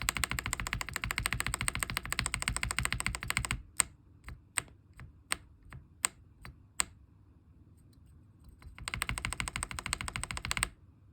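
Typing on a Gamakay SN75 mechanical keyboard with lubed switches, fast dense keystrokes close up, then a few single spaced key presses and a silent pause before rapid typing resumes.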